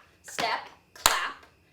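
Two sharp hand claps about half a second apart, close and crisp, with a brief swish of movement around them.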